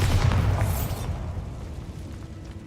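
Bombarda spell explosion in the video game Hogwarts Legacy, a loud booming blast with a bright crack at the start that rumbles and slowly fades over a couple of seconds, with no talking.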